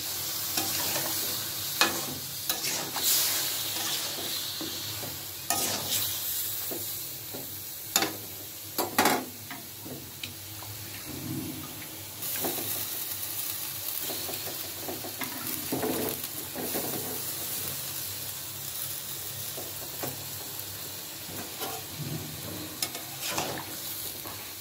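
Chopped green chili and vegetables are stirred and fried in a cooked spice paste, with a steady sizzle broken by repeated scraping stirs of a spoon against the pan, close and moderately loud, no talking.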